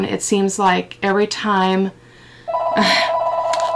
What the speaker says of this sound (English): Sorry, that is my phone.